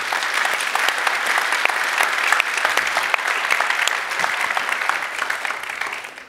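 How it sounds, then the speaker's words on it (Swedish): A conference audience at a workplace environment conference gives a speaker a big, steady round of applause, dense clapping that holds evenly and tapers at the very end. "med en stor applåd"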